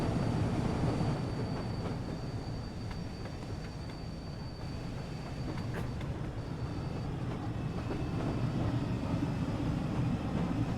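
A steam train with Mark 1 coaches pulls into Lancaster on the West Coast Main Line in Train Sim World 6, giving a continuous rolling rumble of wheels and carriages with a faint high whine on top.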